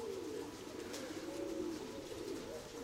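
Pigeon cooing steadily nearby in a low, rolling murmur that continues for a few seconds without talk, in warm, windy summer weather.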